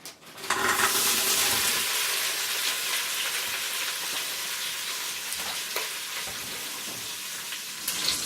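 Meatballs sizzle in an Instant Pot, giving a loud, steady crackling hiss that starts abruptly and holds evenly throughout, with occasional small pops and no talking.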